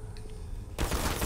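Portal turret gunfire erupts suddenly after a quiet hum, a dense rapid burst of shots that stays loud and continuous to the end.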